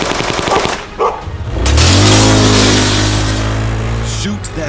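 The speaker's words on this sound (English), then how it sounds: "Shoot the vehicle, Tomax." Animated comic action scene with loud gunfire effects from a G.I. Joe battle targeting a vehicle: sharp bursts at the start, then a sustained roaring, engine-like drone with a rising tone under dramatic music.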